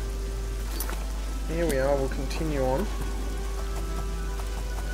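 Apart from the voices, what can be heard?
rain in the video game Oblivion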